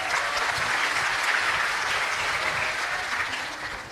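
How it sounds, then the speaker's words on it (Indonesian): A large rally crowd of thousands applauds steadily, a dense, continuous wash of clapping that fills the space and tapers slightly at the end, with no voices on top. "Boleh tepuk tangan untuk kita semua."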